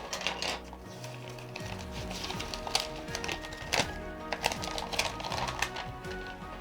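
Plastic LEGO polybags from a Harry Potter 8-in-1 Hogwarts Castle set being torn open and handled, giving a busy run of crinkling, tapping and clattering pieces up close with no talking.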